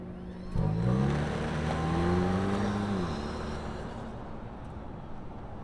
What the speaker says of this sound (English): let's fire this up and see the Trailhunter move